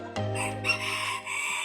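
A rooster crows nearby in a drawn-out, harmonic call that lasts well over a second and carries a faint clucking edge.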